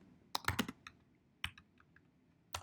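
Keystrokes on a computer keyboard while coding in Python, close and quiet, in short irregular bursts of clicks with pauses between them.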